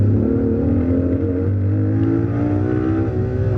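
A Ferrari LaFerrari engine revs high and drones steadily on a track, its pitch dipping as the throttle lifts and an upshift changes the tone, close and loud throughout.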